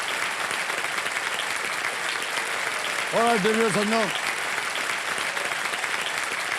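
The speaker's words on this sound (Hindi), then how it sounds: "तालियां बज जाए जोरों से नमिश के लिए।" Studio audience applause on a TV quiz show set, a continuous dense clapping bed that runs the whole time while someone speaks over it.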